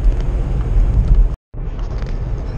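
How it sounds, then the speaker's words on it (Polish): A Hyundai i30 with a 1.0 turbo engine drones steadily while driving, a low continuous cabin rumble that cuts out for a split second partway through and then resumes. "Nie jest to jakiś przesadnie ostry hałas, ale warto mieć to na uwadze, decydując się na ten właśnie silnik."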